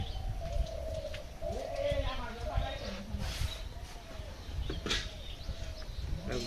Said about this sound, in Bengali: ওই আগে থেকে ডাক এদিকে গুগু পাখির ডাক।